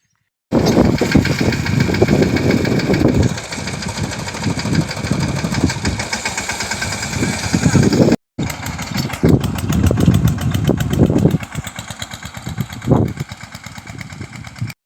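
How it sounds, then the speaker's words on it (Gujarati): A tractor engine running while it pulls a harrow through a farm field: a loud, steady chugging drone close by that cuts out briefly and then resumes. "ટ્રેક્ટર હાંકે છે ને આપણે તો ખાતર નાખવાનું છે"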